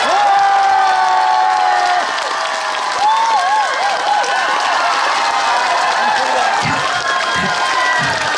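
Crowd applause and cheering at an outdoor street performance in Daejeon, a steady dense clapping that stays loud throughout, with a voice and some tonal sounds carrying over it.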